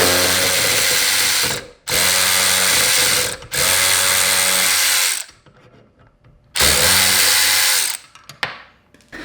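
A DeWalt cordless ratchet, metal head over a plastic body, runs on a bolt in three loud sustained motor bursts separated by short gaps, then a quieter stretch of clicks before a final burst and a few small knocks.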